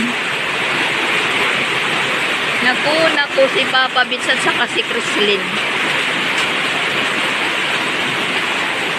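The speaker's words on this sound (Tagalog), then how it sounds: "Yan po guys, lalong lumalakas po yung ulan." Heavy rain keeps falling hard on a rural road under a dark, overcast sky, a continuous broad hiss that stays steady while someone talks briefly over it near the middle.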